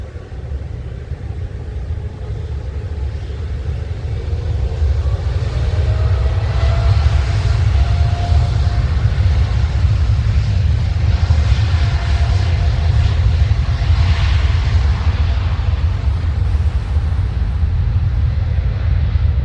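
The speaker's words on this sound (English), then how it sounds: "I'm going to be quiet so you can hear the Dreamliner go." A Boeing 787 Dreamliner takes off at London Heathrow, its engines giving a loud, sustained low roar and rumble that builds slightly and holds steady throughout, heard alone without talk.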